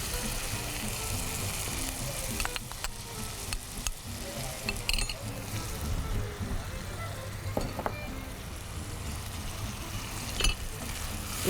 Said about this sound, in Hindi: इसकी अच्छे से भुनाई करेंगे।